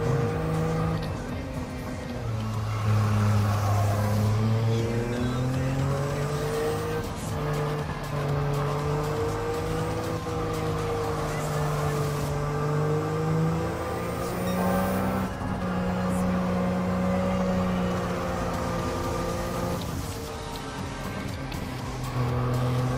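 A small kei car accelerating in a Kei-Ca-Cup race in Gran Turismo 7, its engine droning steadily and rising and falling in pitch through gear changes and corners, loud and continuous with faint tire squeal.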